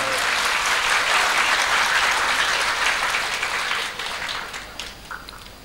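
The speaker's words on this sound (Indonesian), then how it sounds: "Tepuk tangan untuk anak-anak kita semua." A crowd at a vocational high school graduation ceremony applauds loudly, a thick sustained roar of clapping that tapers off in the final seconds without speech.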